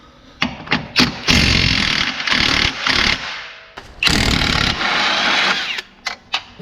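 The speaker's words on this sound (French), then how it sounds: "la clé à choc, elle fait tout. Ça permet de desserrer 10 fois plus vite." A DONG CHENG three-speed impact wrench set to medium fires in loud, close bursts of rattling hammering, short blips then longer sustained runs separated by brief pauses, with no talking over it.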